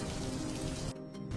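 Cartoon-style rain effect: a steady hiss of falling rain fills most of the moment, then drops away abruptly toward the end, leaving only faint drizzle-like traces.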